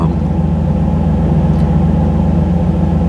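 A 3rd-gen Camaro with a 305 TPI V8 idling on a cold start, a loud, steady low rumble with an even, unbroken pulse and no talk over it.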